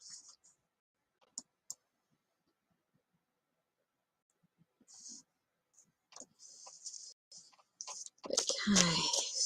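Scattered keyboard keystrokes tick sparsely and faintly across a quiet stretch, then give way to a louder, busier burst of noise at the end.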